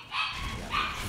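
Dog barking in a game: two short yelping barks a fraction of a second apart, fairly close and clear over a soft background.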